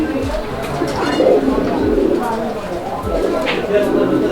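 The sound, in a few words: pigeons cooing at a pigeon market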